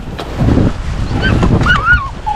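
A wounded goose honks several times, calling in short, wavering cries over rough outdoor wind and water noise, fairly close and with no talking.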